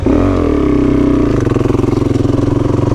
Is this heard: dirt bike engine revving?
yes